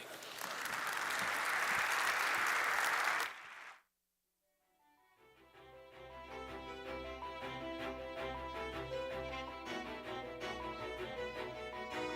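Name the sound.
conference audience applause for moderator and panelists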